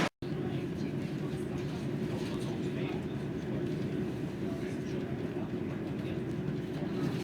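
Steady, even rumble of an Austrian Railjet Express train while riding in its passenger car, a continuous close low roar with no breaks from start to end.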